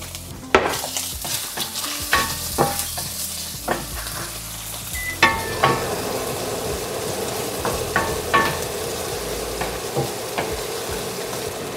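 Garlic sizzles in a pan while a utensil scrapes and clinks against it in sharp, irregular strokes over a continuous frying hiss.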